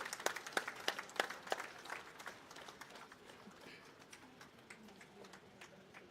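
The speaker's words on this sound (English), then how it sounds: "a round of applause to our awardees" Scattered claps from an audience at a police service anniversary ceremony at Camp Crame, a few sharp claps at first thinning out into sparse, fading applause.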